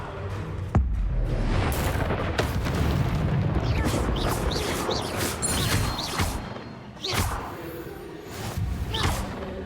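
A Confringo fire spell cast in Hogwarts Legacy bursts with a heavy booming blast and whooshing rush, followed by further swishing spell strikes and crashing impacts amid battle noise.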